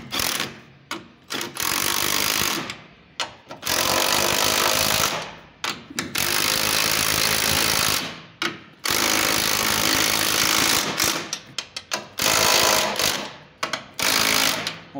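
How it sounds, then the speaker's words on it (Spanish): A ratchet tightens the three upper nuts of a strut mount on a Honda Civic or CR-V shock absorber. It runs in repeated loud, close bursts of buzzing mechanical whirring, broken by short silent gaps, with no talking. "vamos ahora a apretar las tres tuercas superiores"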